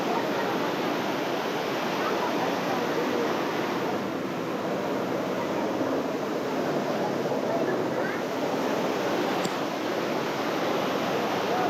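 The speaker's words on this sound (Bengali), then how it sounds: "তো আস্তে আস্তে কিন্তু বাঁধ নামিয়ে দেওয়া হচ্ছে এবং দেখবেন যে পানির প্রবাহ কিন্তু বন্ধ হয়ে যাবে" Water rushes through a sluice gate on a river dam as the gate is slowly lowered. It makes a loud, continuous roar with no break across the whole stretch.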